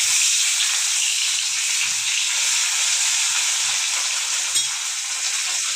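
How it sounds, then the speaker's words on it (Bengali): Rohu fish frying in a pan as it is flipped, a loud, dense and constant sizzle close by with a few soft low bumps underneath. "মাছটা উল্টায় দিচ্ছি"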